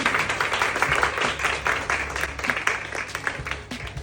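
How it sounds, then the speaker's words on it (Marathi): A modest round of applause from a group at a certificate day event, steady, thin clapping for about four seconds that tapers slightly at the end. "टाळ्यांचा आवाज मला खूप कमी आलेला आहे"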